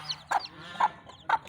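Broody hen clucking at a poultry farm where chicks are raised, three short, evenly spaced clucks close by with quiet gaps between them.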